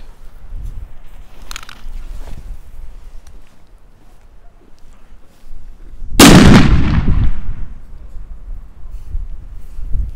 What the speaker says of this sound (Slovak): máme tu petardu Big Bang 5G